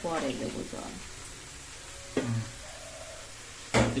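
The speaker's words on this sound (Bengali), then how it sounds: "এখানে ভেজে নিচ্ছে লাউ আর আলু একসাথে দিয়ে" Bottle gourd and potato pieces fry together in oil, giving a continuous soft sizzle that is broken by a few sharp stirring clatters, with brief talk at the start.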